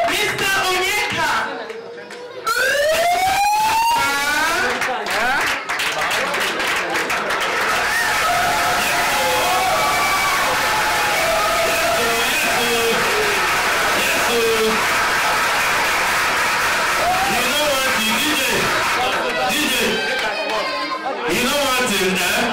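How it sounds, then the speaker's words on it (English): Steady applause and crowd chatter fill the room at a live album launch in Tripoli, Libya, with music and voices over a continuous, loud audience din. "Keep clapping"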